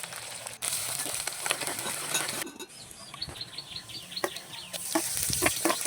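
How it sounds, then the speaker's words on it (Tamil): Mustard seeds, urad dal, curry leaves and garlic fry in hot oil in a pan. There is a dense crackling sizzle with sharp popping spatters and stirring scrapes, close up and steady, and no one talks. "எண்ணெயை ஊற்றி கடுகு உளுந்து போட்டு கருவேப்பிலை, பூண்டு போட்டு நல்லா வதக்கிக்கலாம்"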